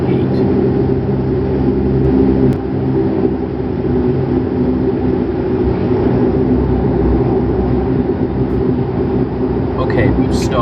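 A turboprop aircraft taxiing to a stop at the gate: a loud, steady engine drone and rumble heard from the cockpit, with a voice talking over it throughout.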